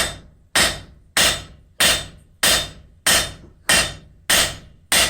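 Hammer striking a copper bar to draw it flat on an anvil, eight sharp ringing blows at a steady, even pace, close and loud, each blow decaying quickly before the next.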